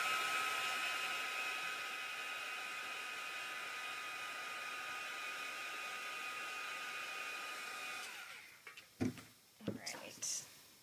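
A hair dryer blows steadily on wet Mod Podge paint for about eight seconds, a constant close whooshing hiss, then cuts off and leaves a few short handling clicks and knocks.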